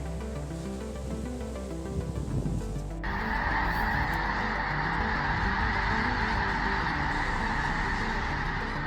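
A huge flock of around 100,000 snow geese honks continuously over a lake, a dense overlapping clamor that suddenly grows brighter and louder as the birds take off.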